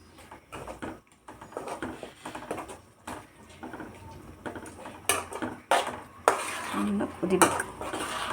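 Spice and garlic-ginger paste with cinnamon and cloves is stirred into a cooking pot, giving irregular clinks and scrapes of a metal spoon against the vessel, growing louder and denser toward the end.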